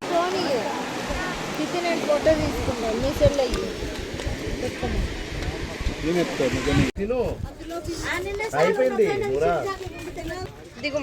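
Waterfall roaring as a dense, continuous rush of falling water, with a person talking over it throughout.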